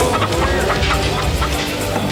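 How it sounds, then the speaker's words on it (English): Geese honk and cackle in a film's sound effect, a dense, loud, overlapping flock chorus that runs continuously and cuts off abruptly at the end. "I don't think they're using the chicken sounds correctly."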